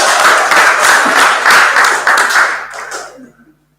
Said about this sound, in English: but let's give him a warm round of applause.